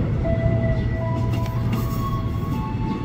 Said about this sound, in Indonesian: KA 5116 rangkaian 10 kereta jalur 2 dari arah utara yang berjalan masuk ke Metro Jakarta